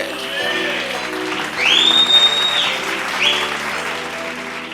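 An audience at a Christian Bible study talk applauds with steady, sustained clapping that swells midway, and a brief whistle-like tone rises above the applause.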